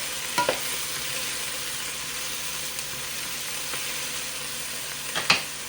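Vegetables and shrimp shells sauté in a pot for shrimp and crab chowder, a steady soft sizzle running throughout, with a couple of brief clinks of stirring near the start and end.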